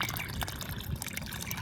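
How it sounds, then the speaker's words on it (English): A garden hose on a low setting runs water onto the soil around a newly planted mango tree outdoors, a steady soft hiss and splash that continues without pause. "So I have the water going. It's on low setting."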